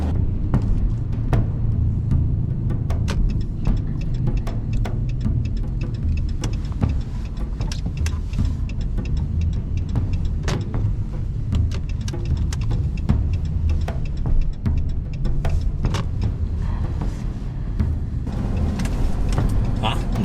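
A Dodge RAM 1500 Quad Cab 4.7 V8 4x4 pickup moves slowly through a Czech underground garage to park, its low engine rumble droning steadily while sharp ticks and clicks echo on top.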